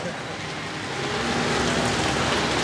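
Heavy rain falls steadily, a dense even hiss that grows slightly louder, with a faint low hum underneath.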